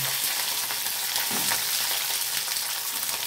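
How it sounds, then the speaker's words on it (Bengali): Potatoes, peas and beans frying in the oil left in a kadai after paneer was fried, giving a loud, dense, continuous sizzle with faint stirring that fills the whole stretch without any talk. "এই কড়াইয়ের মধ্যে এখন আমি সবজিগুলো দিয়ে দেব। সবজিগুলো ভেজে তুলে নেব।"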